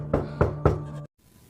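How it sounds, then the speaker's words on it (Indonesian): Three firm knocks on a door, evenly spaced and close, each with a resonant ring, ending abruptly before a quiet room tone. "tiba-tiba terdengar suara ketuk pintu"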